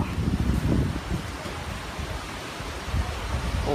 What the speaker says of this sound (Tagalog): Medyo mabilis po ang hangin.